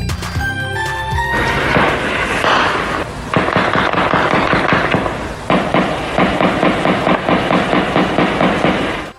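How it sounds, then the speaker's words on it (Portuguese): Intense gunfire rings out in Vila Cruzeiro, Complexo da Penha, Rio de Janeiro: loud, rapid bursts of shots in long rattling volleys, with a brief pause before the firing resumes in sustained rhythmic bursts. "Esse som que você ouviu agora é de um intenso tiroteio que foi registrado hoje na Vila"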